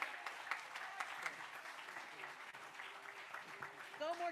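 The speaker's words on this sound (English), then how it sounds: "Give him a round of applause as he enters his new life of higher education." Audience applause at a memorial dedication event honoring a veteran, a steady wash of clapping from a crowd with a few voices and tonal sounds rising near the end.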